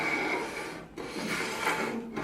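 Mitre gauge sliding in the mitre slot of an Axminster table saw, a smooth close rubbing glide in two short strokes with a brief pause between.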